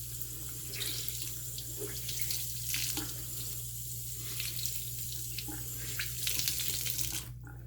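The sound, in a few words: rinsing shaving brush under running tap water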